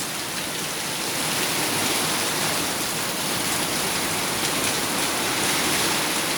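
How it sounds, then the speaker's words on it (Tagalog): Heavy rain pours down in a steady, dense roar, loud and close throughout with no break and no voices. "Lakas ng ulan guys."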